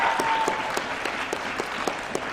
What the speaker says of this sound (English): so I just ask everyone as well for a round of applause for her.